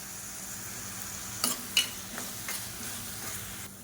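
Onions and garlic sautéing in oil give a steady soft sizzle, broken by a few sharp scraping stirs of a utensil against the pan near the middle.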